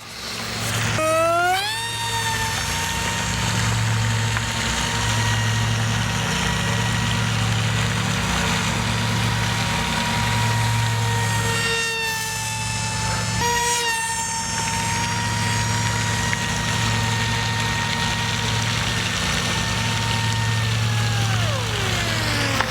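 A radio-controlled F-22 model jet at half throttle makes a loud, steady electric whine with rising and falling pitch sweeps as it zips by, over a constant droning hum, with no talking.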